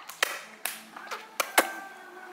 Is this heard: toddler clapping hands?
yes